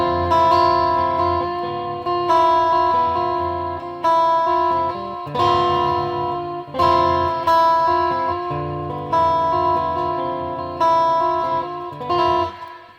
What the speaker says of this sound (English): So it's adding that little slap back in.